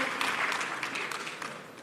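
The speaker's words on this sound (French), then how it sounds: "Applaudissez, Mesdames et Messieurs, Madame Yacine Ndour," Audience applause at a national diaspora day event, a dense, steady patter of clapping from a large crowd, moderately loud and continuous for a couple of seconds.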